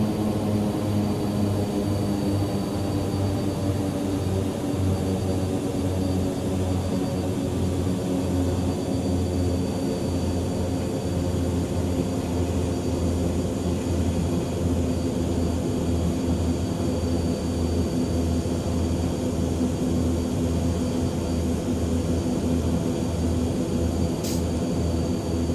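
A King Air turboprop taxis in a flight simulator with a steady, loud droning engine hum and propeller whine that holds constant throughout, with no talk.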